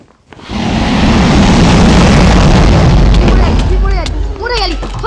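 The Ender Dragon dying in Minecraft survival mode makes a loud, sustained roaring rumble that fills several seconds, then fades into chirpy sounds and a voice near the end.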